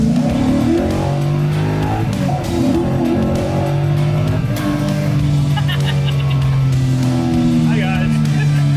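A 1974 Chevy Camaro drives on the road with a steady engine drone that rises and falls as it shifts through the revs, heard from inside under people talking.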